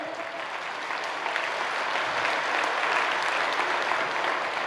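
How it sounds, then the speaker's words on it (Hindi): A large crowd at a Jat community gathering claps loudly in honour of the women, a dense continuous roar of applause that builds slightly and stays strong throughout. "आप सबसे निवेदन करता हूं कि मातृ शक्ति के सम्मान में जोरदार ताली बजाकर उनका अभिनंदन करें।"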